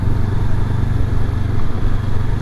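A 2023 Honda CB500X motorcycle engine drones steadily while riding along in third gear at low speed, a loud, even rumble with wind noise and no speech.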